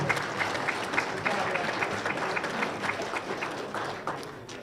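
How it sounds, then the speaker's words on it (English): A crowd at an auctioneers championship claps steadily in sustained applause, dense and continuous, with a few voices faintly mixed in. "Let's give all of those contestants a huge round of applause"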